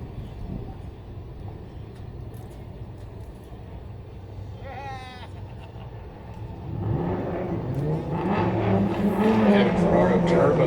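A Nissan 370Z race car with stock power and stock angle, fitted with suspension and a cage, drives at a drift event; engine noise builds and a sustained tire squeal rises loud in the second half.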